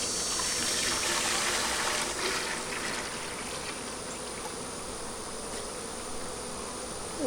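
Honey bees hum around a weak beehive in a bee yard, a continuous buzzing drone heard up close, fairly soft, with a faint trickling texture underneath.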